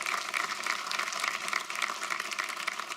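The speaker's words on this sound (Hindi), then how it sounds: "जोरदार तालियां।" Loud, dense applause from a studio audience at the Antakshari League singing reality show, a steady wash of many hands clapping without a break and no voices over it.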